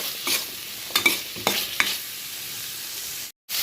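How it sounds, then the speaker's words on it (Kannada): Onions fry in hot oil in a pan for a Muslim-style chicken fry, a steady sizzle broken by several distinct scraping stirs before a brief silence. "ಈಗ ನೀರುಳ್ಳಿ ಹಾಕಿ ಒಳ್ಳೆ ಇದು ಮಿಕ್ಸ್ ಮಾಡಿ ಎಣ್ಣೆಯಲ್ಲಿ ಚೆನ್ನಾಗಿ ಮಿಕ್ಸ್ ಮಾಡಿ"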